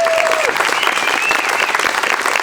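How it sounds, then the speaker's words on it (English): Audience applause for Persian Gulf veterans at a veterans coalition gathering, a dense, steady burst of clapping from a crowd filling the whole moment. "Let's give them a great round of applause."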